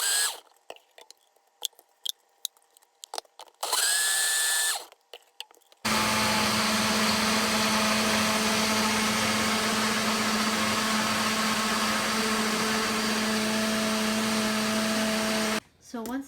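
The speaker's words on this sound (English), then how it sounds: "These are the tomatoes, and I just put them in my blender, and I hit the button to" A kitchen blender whirs as it liquefies tomatoes for sauce, a sustained motor drone that starts after a few short clicks and bursts and runs loud and steady for about ten seconds before cutting off.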